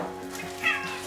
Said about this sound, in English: I think we're getting ready to have a cat fight down here.